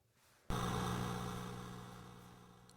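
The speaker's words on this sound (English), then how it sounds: "See, that sounds like a gong." A single struck metallic gong tone from the 1986 Mastertronic game Ninja rings out suddenly and sustains with a harsh, buzzy, distorted shimmer, slowly fading.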